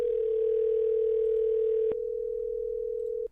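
A continuous telephone dial tone sounds while an internal call is placed on a 1Call IP-PBX system. The tone is loud and steady, thins slightly partway through, then cuts off abruptly.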